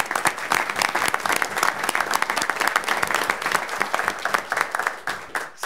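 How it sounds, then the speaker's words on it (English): Loud, sustained applause from an audience at a board of directors meeting, dense overlapping claps rolling on steadily for several seconds with no break. "let's give another round of applause to that staff"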